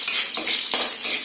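Chopped garlic frying in a pan over high flame, a steady bright sizzle throughout with a couple of soft stirring scrapes, close and fairly loud with no talking.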